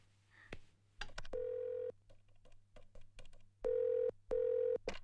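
Telephone dialing: quick button tones followed by a few steady electronic beeps of a phone line, clear and close, with soft clicks between.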